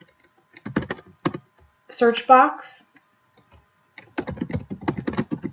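Computer keys are tapped in two short clusters of quick clicks while someone talks over them, explaining how to use a database search box.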